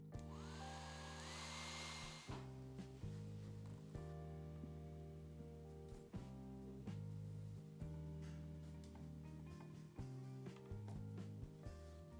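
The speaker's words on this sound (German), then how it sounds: "Ich gehe jetzt mit dem Föhn hier noch einmal drüber." A hair dryer blows steadily over watercolour paint in a sketchbook, a continuous close whirring drone with a humming motor tone and airy hiss throughout, with no talking.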